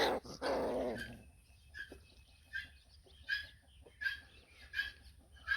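A Maremma puppy growls while play-fighting with its littermates, giving a close, snarling burst at the start and then a series of short, fainter yips and growls, with quiet pauses between them.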